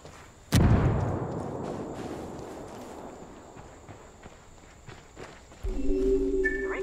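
A frag grenade goes off in a Ghost Recon PvP match, one sudden loud blast followed by a long decaying rumble, with faint game sounds continuing afterward.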